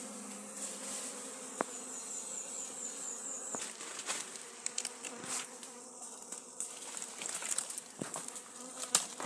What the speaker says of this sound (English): And that's Mario taking out the cone out of the hive